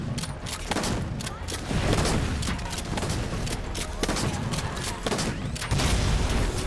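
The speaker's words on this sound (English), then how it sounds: "Go shotgun style here" Rapid, repeated gunfire bursts from a shotgun in the Halo 4 campaign, heavy booming shots packed closely together over a dense, noisy battle mix.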